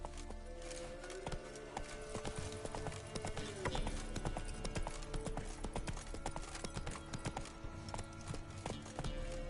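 A horse gallops in The Witcher 3, its hoofbeats a fast, steady clip-clop that carries on close and prominent throughout, with faint game ambience behind.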